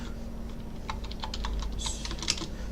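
Quick bursts of keystrokes on a computer keyboard while code is being written, clustered taps clicking close and clear over a low steady hum, with no talking.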